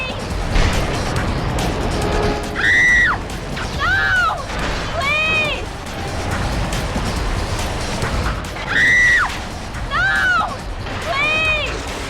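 In the Batman Begins PS2 game, a voice cries out in repeated high, panicked screeches during the Batmobile level, loud bursts recurring over a constant roar of engine and crash noise.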